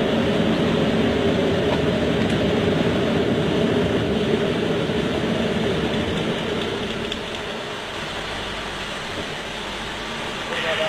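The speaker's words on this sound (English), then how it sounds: "the sound level on the flight deck has decreased quite a lot. That airflow noise we were getting before has now diminished" Steady broadband roar on the Concorde flight deck with nose and visor raised for high-speed flight, a continuous airflow and engine rumble that eases slightly toward the end, with speech-like murmur underneath.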